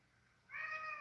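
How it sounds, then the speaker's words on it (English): A cat meows at a door, one drawn-out, fairly loud call that starts midway and holds steady to the end over a quiet room. "I just gotta open the door for this cat who's incredibly annoying"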